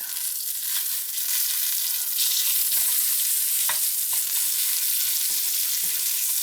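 A bacon-wrapped hot dog sizzles steadily in a hot pan, with a few soft scraping knocks as it is turned over with a hemostat; loud, continuous frying with no talk.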